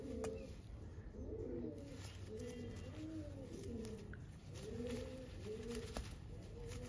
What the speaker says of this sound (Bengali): দেখুন এই ওভারঅল পায়রা।